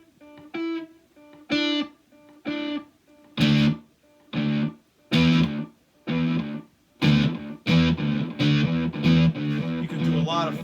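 A three-string cigar box guitar played through a Danelectro Dan Echo delay pedal with mix and speed turned all the way up, loud plucked notes and chords in a steady rhythm, growing denser as the repeats pile up, no talking.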